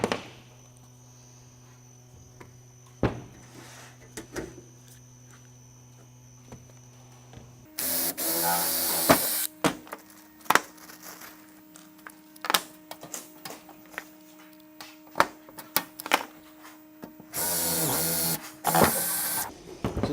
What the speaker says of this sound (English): I'll grab my glasses and I'll put some rivets in there.